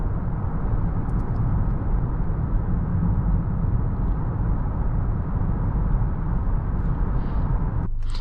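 A 2020 Honda Accord EX-L 2.0T on the move gives a continuous, even cabin hum of road and wind noise, moderate and unbroken throughout.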